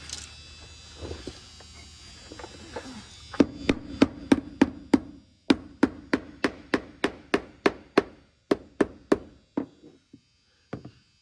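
Rapid metallic hammer blows on the rotted body of a 1956 Capri ring out in a steady series, about two dozen sharp strikes, loud and close, then slowing to a few final taps.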